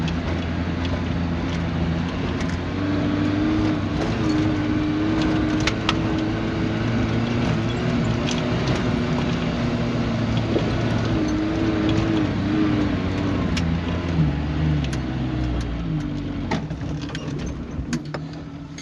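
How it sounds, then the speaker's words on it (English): A 1987 Suzuki Samurai with a 1.3 engine and swapped carburettor, climbing a hill in high range at high RPM, its engine droning steadily and loud throughout with a sustained strained tone and no talk. "we're gonna try a high range, high RPM hill climb"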